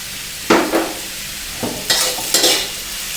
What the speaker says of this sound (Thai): ผัดให้เข้ากันก่อนนะครับ